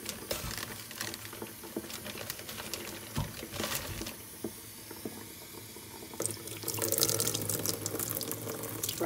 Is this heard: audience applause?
no